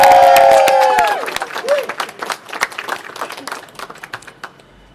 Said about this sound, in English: Give each other a round of applause.